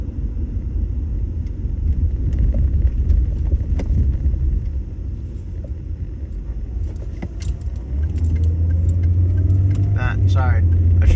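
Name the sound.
car driving on a back road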